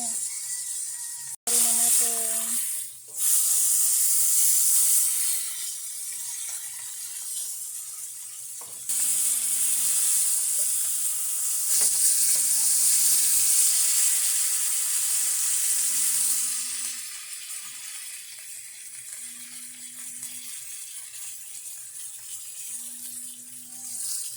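Steady, loud sizzling of food frying in a pan continues throughout, with a low beeping tone repeating at intervals beneath it.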